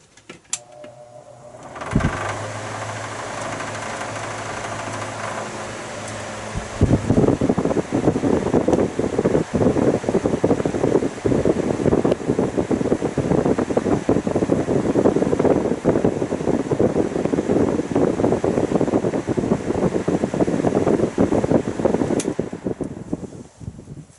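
A GE All Purpose electric fan switches on and spins up to speed, its steady whooshing hum loud and close, with a slightly off-balance blade, and it runs on alone until a click near the end.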